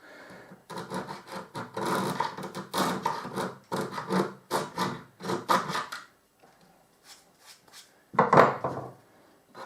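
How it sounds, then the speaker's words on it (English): A file scrapes and cleans the wooden fipple edge of a handmade alto F whistle in quick bursts of rasping strokes, close up, with a short pause before a final louder flurry; nobody speaks. "Right now I'm not actually filing the fipple edge under the edge. I'm just cleaning the edge with this."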